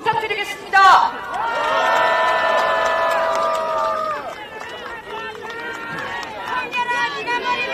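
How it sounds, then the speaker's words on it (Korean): Crowd at a protest rally against Fukushima seafood imports cheering and shouting together in sustained, overlapping voices, fairly close and loud, with a burst at the start and a slight drop midway before swelling again. "다시 한번 윤재갑 위원장님께 큰 박수 부탁드리겠습니다."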